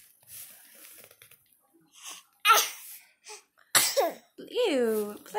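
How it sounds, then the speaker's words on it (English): A baby in a crib lets out a short, sharp sneeze among breathy babbles and squealing vocal sounds, all close and intimate, with quiet gaps between the bursts. "You sneezed on me."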